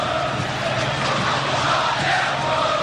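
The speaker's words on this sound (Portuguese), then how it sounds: "a torcida do São Paulo faz a grande festa do Morumbi" A packed Morumbi stadium crowd of São Paulo supporters roars steadily and loudly during the 1992 Campeonato Paulista final against Palmeiras, a dense continuous wash of cheering.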